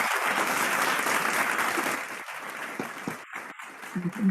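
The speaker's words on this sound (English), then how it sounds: "Please let us give them a round of applause" Applause for two club presidents at a Rotary Club induction and turnover ceremony, a thick round of clapping that thins out and fades after a couple of seconds, leaving scattered claps and brief murmurs.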